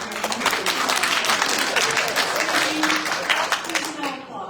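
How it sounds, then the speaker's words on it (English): An audience at a Chicago 49th Ward candidate forum applauds with dense, sustained clapping from many hands that fills the room and carries on evenly before cutting off at the end. "Please no applause during the response."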